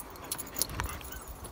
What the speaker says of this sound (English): Don't bark at neighbors.